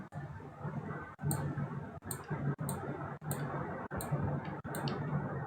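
Sharp mouse clicks on a computer, about seven spaced-out clicks over a faint steady background hum, close and quiet with no talk.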